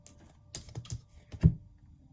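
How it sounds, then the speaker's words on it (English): Tarot cards are shuffled by hand, giving a brief burst of soft riffling clicks and flutters ending in a duller tap, faint and close in a quiet room with no talking. "as I'm shuffling the cards"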